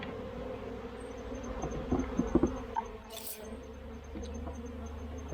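Honey bees buzzing around an open hive during a swarm, a steady low drone throughout with a few louder clicks and knocks against the frames partway through.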